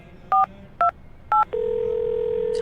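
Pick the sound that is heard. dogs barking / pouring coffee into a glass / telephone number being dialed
telephone number being dialed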